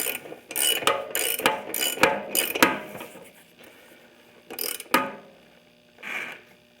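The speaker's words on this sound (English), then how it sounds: "put on the big old socket, slide it through here, tighten down your" A socket ratchet clicks in several quick bursts while tightening the rear axle nut on a Honda ST1100 motorcycle during a tire install, followed by a few sharper metallic clanks of the tool on the axle, all close and with no talking.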